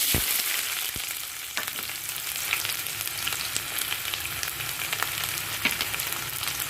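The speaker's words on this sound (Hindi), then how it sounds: "अब हल्का करने के बाद हम इसमें डाल रहे हैं प्याज और लहसुन" Chopped onions and garlic sizzle steadily in smoking-hot mustard oil for a Kashmiri dish, a continuous close fry with faint stirring clicks scattered through it and no voices.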